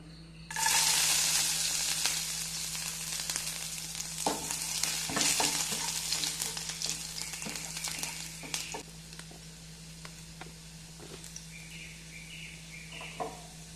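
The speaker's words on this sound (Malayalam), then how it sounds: "എണ്ണ ചൂടാകുമ്പോൾ നമുക്കതിലേക്ക് ആദ്യം തന്നെ നമ്മൾ വെളുത്തുള്ളി ഇട്ട് കൊടുക്കുന്നത്" Garlic hits hot oil with a sudden loud sizzle that settles into a steady crackling fry with occasional stirring clinks. Faint bird chirps sound in the background.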